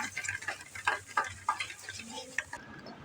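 Sauce with a little ginger stirred in a pan, a spoon scraping and clicking in uneven strokes over a soft sizzle, close and fairly quiet, with no talking.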